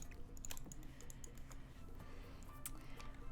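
Rapid keyboard typing, dense and continuous clacks with a few louder strikes, close by over a steady low background hum; nobody speaks.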